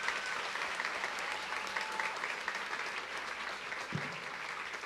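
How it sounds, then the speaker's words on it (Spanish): Congregation applauding newly baptized church members at a live stadium church service, a steady, dense wash of clapping filling the space for several seconds at moderate distance. "démosles un aplauso a los hermanos"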